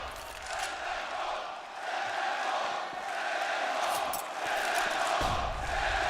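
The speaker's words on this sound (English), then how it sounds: "The crowd is ready." Arena crowd roaring steadily at an ELEAGUE Boston 2018 Counter-Strike semifinal between SK Gaming and Cloud9 on Inferno, a dense, continuous wall of cheering and shouting that swells slightly throughout.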